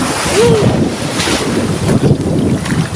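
Large ocean waves surge and wash continuously onto a beach while heavy wind buffets the microphone, a loud, rough roar with no voices.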